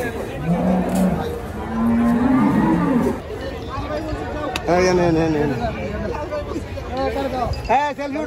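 A decorated buffalo lows at a livestock fair, with long deep calls near the start amid crowd chatter and spoken voices, and further calls mixed with babble later.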